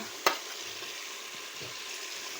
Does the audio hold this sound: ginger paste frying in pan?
yes